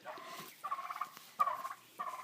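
Turkeys in a pen gobble close by: three quick, warbling calls in a row.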